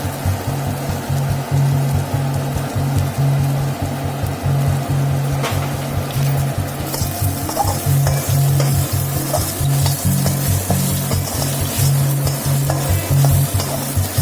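Dry coconut frying in oil with a pinch of turmeric, a constant loud sizzle with scraping stirs throughout, close up and without talk.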